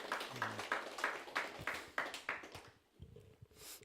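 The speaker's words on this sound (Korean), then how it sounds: "우리 격려의 박수를" Applause of encouragement from a seated audience at a lecture, a steady patter of many hands clapping at moderate distance before fading out, with a brief murmur near the end.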